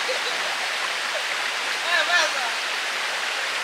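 Rushing stream water near the three-tiered Limoli waterfall, a steady broad wash of flowing water close by with a brief louder surge partway through.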